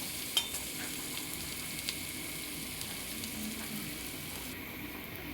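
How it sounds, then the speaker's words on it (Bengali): Chopped raw onion fries in a pan with a continuous soft sizzle, broken by a few light clicks and scrapes of stirring, with no voices. "এটাকে একটু ভালো করে লাল করে আমি একটু ভেজে নেবো পেঁয়াজটা"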